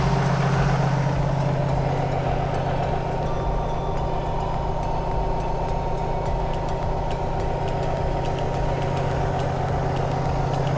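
A 2014 Freightliner truck with a Cummins ISX12 diesel idling through a forced DPF regeneration, giving a steady, loud, low droning rumble with a constant hum, unbroken and close for the whole stretch.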